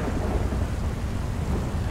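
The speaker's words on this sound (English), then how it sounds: "Heck of a storm going on here in Blaine County." A thunderstorm with rain rages in the GTA 5 video game in Blaine County, a loud, continuous rumbling roar with heavy rain hiss and no voices.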